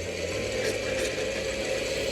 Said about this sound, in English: blending up our protein shake